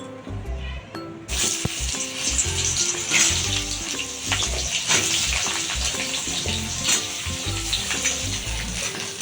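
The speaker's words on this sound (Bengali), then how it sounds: "ওই তেলেই এঁচড়গুলো আমরা একটু ভেজে নেব" Jackfruit pieces frying in hot oil, the same oil used earlier for potatoes, for a vegetarian jackfruit korma, giving a loud, continuous sizzle and crackle close to the pan, with no talk.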